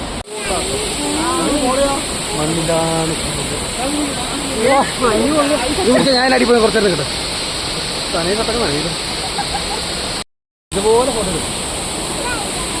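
Rushing water from the Njndirukki waterfall roars as a steady, loud broadband wash, with people talking over it for most of the time and a brief dropout near the end.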